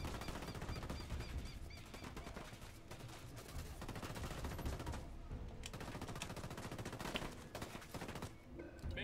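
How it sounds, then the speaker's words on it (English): Sustained, dense automatic gunfire from a firefight in the video game Tom Clancy's Ghost Recon Wildlands rattles continuously and loudly throughout, with overlapping bursts and barely any break. "I'm opening fire on these shitheads."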